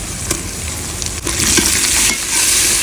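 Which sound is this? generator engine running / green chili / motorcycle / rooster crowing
green chili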